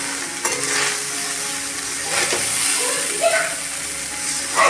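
Boiled rice stirred into a sizzling cumin and green chilli tempering in a pan, a steady frying hiss with soft stirring scrapes, close by and continuous.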